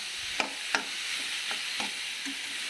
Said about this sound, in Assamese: সেইখিনি আকৌ কেঁচা গোন্ধ যোৱালৈকে অকণমান ভাজি ল'ম